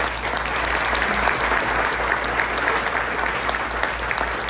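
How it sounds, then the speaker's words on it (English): An audience at a client appreciation event gives a panel a sustained round of applause. The clapping is dense and steady throughout, with a faint crowd murmur beneath it. "So big round of applause for this panel."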